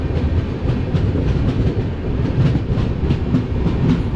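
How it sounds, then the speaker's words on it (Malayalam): A high-capacity parcel train carrying new cars rolls past at a railway station, with loud, steady rumbling and rhythmic clickety-clack of wagon wheels over rail joints close by. "ഇവിടെ ഒരു ട്രെയിൻ ഉണ്ട് കേട്ടോ. ഇത് പാഴ്സൽ, ഹൈ കപ്പാസിറ്റി പാഴ്സലാണ്, കാർ കൊണ്ടുപോകുന്നതാണ്"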